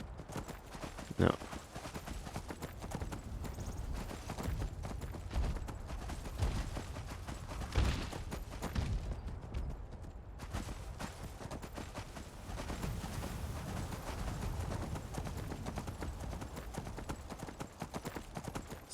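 Horse hooves clip-clop steadily while riding in Skyrim with the Requiem mod, a continuous close rhythm of hoofbeats over outdoor ambience, with no voices.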